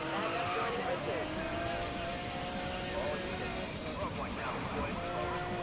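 Racing in Need for Speed Most Wanted against a Shelby Cobra 427, an engine drones steadily while tires skid and squeal, with someone talking over the continuous roar.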